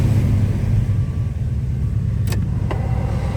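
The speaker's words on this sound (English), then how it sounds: "We're going to start up our 87 GMC." A 1987 GMC K1500 pickup's engine runs loud and close with a steady, heavy low rumble, and a couple of brief sharp clicks come near the end.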